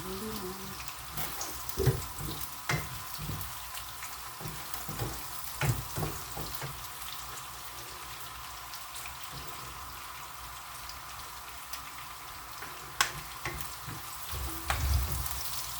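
Onion frying in a pan, a steady close sizzle with scattered clinks and stirring scrapes throughout, and no talking.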